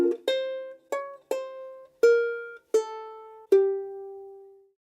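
A solo ukulele plays bars 11 and 12 of a song as a chord melody, six plucked notes and chords spaced slowly apart, each ringing close and clear before fading, with the last note sustaining longest.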